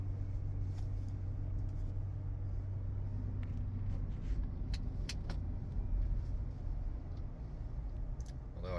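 A GMC Envoy driving on the road, a steady low engine and tire rumble heard from inside the cabin, with a few faint rattles and clicks over the continuous drone.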